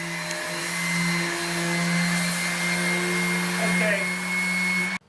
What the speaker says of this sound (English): The plastered swirl lines must now be sanded smooth around the perimeter of our work area